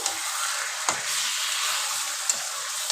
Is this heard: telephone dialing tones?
no